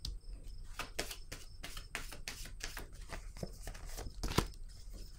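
Tarot cards laid out one after another during a reading, a run of quiet, close papery slaps and slides in an irregular rhythm, with a slightly sharper snap near the end.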